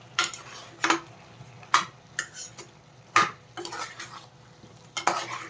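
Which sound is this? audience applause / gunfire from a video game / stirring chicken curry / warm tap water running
stirring chicken curry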